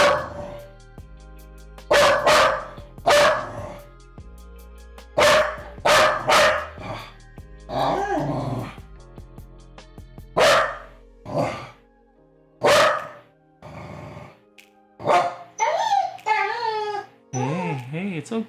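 A dog barks in loud, sharp bursts indoors, with a run of repeated barks followed by higher whining yelps toward the end, while a person speaks over it.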